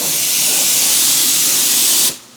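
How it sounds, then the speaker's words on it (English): An empty paint spray gun with no paint loaded blasts plain air during work on a square-body truck's dash, making a loud, steady hiss that runs for about two seconds and then cuts off abruptly. "I'm just going around spraying"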